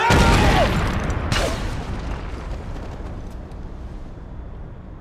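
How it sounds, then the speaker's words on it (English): A burst of gunfire and booms opens a Max Payne 3 cutscene set over Hoboken, with a couple of sharp reports early on, then a rumbling tail fading into low ambient noise. "Gunfire over Hoboken."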